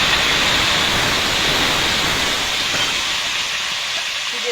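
Pointed gourd (potol) dropped into hot oil in a kadai, throwing up a loud, close, continuous roaring sizzle that stays dense and steady throughout.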